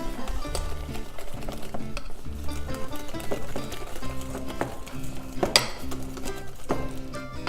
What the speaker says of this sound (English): You add half of the flour, then you keep mixing.